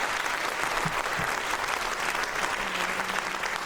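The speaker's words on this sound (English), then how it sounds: "Let's give one more applause to those guys." A school audience at a high school concert finale applauds loudly and continuously, a thick even roar of clapping with a few voices faintly underneath.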